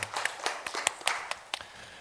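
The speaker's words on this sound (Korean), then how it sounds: "하나님께 영광의 박수 올려드리겠습니다" Scattered applause from a church congregation during a worship service, a handful of individual claps ringing out irregularly at moderate volume with no voices over them.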